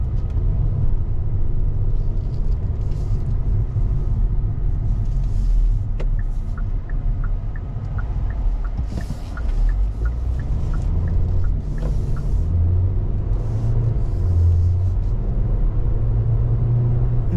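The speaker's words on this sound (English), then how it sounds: "see how smooth that 8-speed is? Just shifts beautifully, gets the vehicle up to speed effortlessly" Inside a 2024 Kia Seltos SX Turbo with an 8-speed transmission, a steady low road rumble and engine drone carry on while the car drives, with no abrupt changes.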